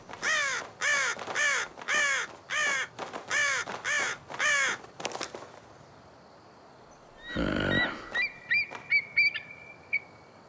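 Animated cartoon crows caw in a fast run of about nine loud, evenly spaced harsh calls. A noisy burst and a few shorter, higher bird calls follow, with no talking.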